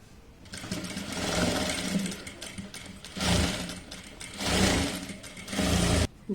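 A sewing machine stitches a puff sleeve frock in several runs of rapid, buzzing mechanical whirring, speeding up and pausing between bursts, close and fairly loud.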